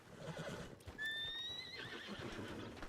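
A horse in the Red Dead Redemption 2 video game gives one clear, rising whinny lasting about a second, with hoof clip-clop and game ambience continuing around it.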